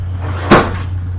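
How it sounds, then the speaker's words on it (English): A single short clatter and thump as a window blind knocked down by a cat falls, with a steady low hum running underneath throughout. "Our cat just knocked down the blind."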